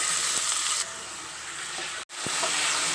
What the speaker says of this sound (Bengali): তেলটা গরম হয়ে গেছে, এবারে আমি মাংসটা দিয়ে দিচ্ছি।